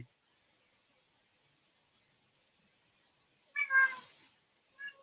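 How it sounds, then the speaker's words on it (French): A faint cat meows once, with a brief quieter call just after it, both at some distance in an otherwise near-silent room. "réponse donnée par le chat de je ne sais qui"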